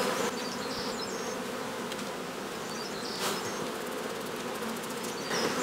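Honey bees drone steadily in a dense, continuous buzz at an opened hive during inspection of brood frames, the hum close and unbroken throughout with no voices.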